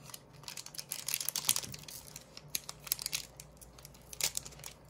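A crinkly foil Pokémon trading card pack being torn open and crumpled in short bursts, close up, with sharp ripping spikes and no talking.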